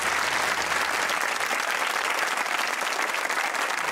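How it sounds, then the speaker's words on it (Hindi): A studio audience on a comedy talk show in Pakistan applauds a guest's aunt and family. The clapping is dense, steady and loud, with no break for the whole stretch. "तालियां होनी चाहिए आंटी और फैमिली के लिए।"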